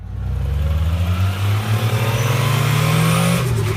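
A car accelerates hard in a steady, loud pass, its engine note rising continuously over nearly four seconds with a strong low drone and no talking.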